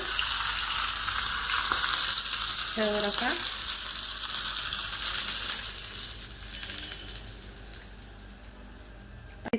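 Three or four green chillies dropped into hot tadka oil for instant khaman dhokla, giving a loud, continuous spitting sizzle that gradually softens, with a brief clatter partway through and no talking.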